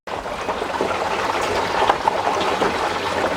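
Water runs steadily into a tank on a wooden pressure washing skid for a truck or trailer, a continuous trickling, filling rush that holds at an even, moderately close level throughout, with no talking.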